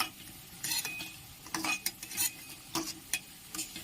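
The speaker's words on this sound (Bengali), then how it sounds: "এভাবে লাল লাল করে ভেজে নিতে হবে" Bottle gourd kofta balls frying in a pan for a vegetarian curry, with a soft steady sizzle broken by sharp scrapes and clinks of a spatula turning them at irregular intervals, fairly close and without talk.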